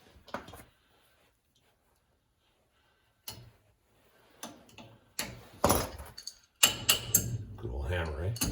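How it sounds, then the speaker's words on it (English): Sharp metallic hammer taps on brake hardware during hydraulic brake repair, a few isolated knocks, then clustered strikes growing louder and busier toward the end, with handling clatter between blows. "Good old hammer, right?"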